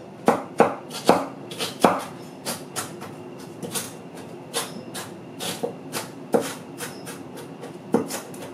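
A cleaver chops fresh ginger on a board, giving a steady run of sharp, close knocks, strongest at the start and continuing at an even pace with lighter strokes between; no one speaks.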